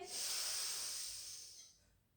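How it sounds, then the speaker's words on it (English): A single deep breath drawn in during a pilates cow pose, a soft airy inhale that swells quickly, holds, then fades out alone in a quiet room. "Take a breath in."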